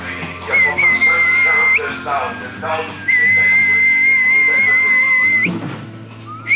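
A person whistles a sustained, wavering tune in two long phrases, close and clear, with some background murmur and clatter.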